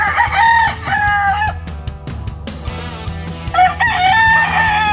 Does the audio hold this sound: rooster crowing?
yes